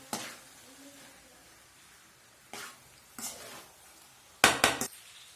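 Spoon scraping and clinking against a pan while tomato rice is stirred, a few short bursts separated by quiet, the last ones louder and closer together.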